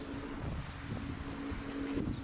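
Wind buffets the microphone outdoors on a cold, windy Korean coast, a steady low rumbling roar with no voices.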